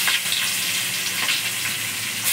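Onions frying in butter and oil in a pot for Mumbai-style pav bhaji, a steady loud sizzle with bright hissing crackle throughout, no voices.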